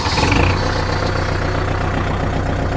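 A tractor engine runs at a steady idle on a farm, a loud close rumble that holds constant throughout, with no talking.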